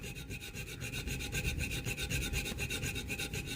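A gouge carves rhythmically into a Buck 110 knife part, giving a close, steady scraping rub with quick repeated strokes and no one talking.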